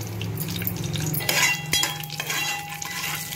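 Peanuts tossed into a pan of mustard seeds and cumin frying in oil: clinks and scrapes against the pan under a steady sizzle, with a sharp metallic knock near the middle, close by and without talk.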